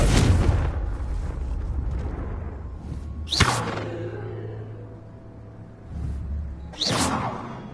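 Confringo spell blasts in a Harry Potter video game, three separate explosive whooshes with deep booming thuds, spaced a few seconds apart, each bursting loudly and then rumbling away.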